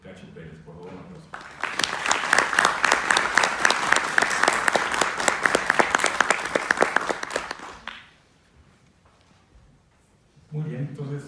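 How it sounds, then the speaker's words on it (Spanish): An audience at a book presentation claps to welcome a speaker, dense sustained applause lasting about six seconds before dying out abruptly, with a person talking just before and after. "Por favor, un aplauso."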